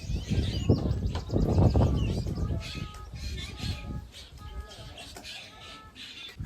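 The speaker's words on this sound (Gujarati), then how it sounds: "સવારમાં વંડે આવીને એટલે પક્ષીના અવાજ સાંભળવાની ક્યાંક મજા અલગ હોય છે" Birds chirp and call in the morning at a farm yard, with some fowl-like clucks among the calls. The chirps are scattered and moderately close over a steady outdoor background, with a low murmur early on.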